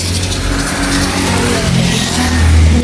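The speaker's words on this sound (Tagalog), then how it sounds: "ito yung mga sakyan dito, mga motor." Motorcycles passing on a wet street just after rain, a loud steady engine drone close by that swells near the end as one revs past, with no talk over it.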